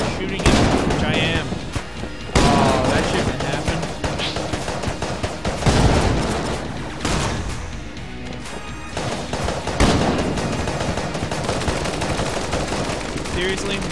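Dense, continuous game gunfire from Enter the Gungeon, with rapid bursts of shots and bullet spreads layered into a loud, busy barrage that barely lets up, with a voice talking over it.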